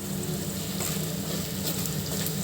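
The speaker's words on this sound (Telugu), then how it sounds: "ఇలా ఫ్రై అయిన తర్వాత ఇవన్నీ మసాలాలన్నీ వేసేస్తున్నానండి" Spices being added to ingredients frying in a pan, a continuous close sizzle and crackle with a faint stir or two, steady in loudness and free of talk.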